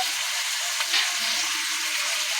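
Winter vegetables fry in a pan with a loud, steady, close sizzle and crackle that continues evenly throughout, with no talking.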